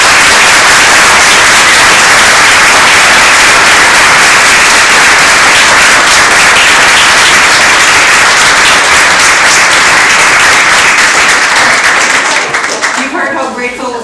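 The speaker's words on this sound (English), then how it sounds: "let's give a round of applause again" Sustained round of applause from an audience at an annual community group meeting in a library, loud and dense throughout before tapering off near the end.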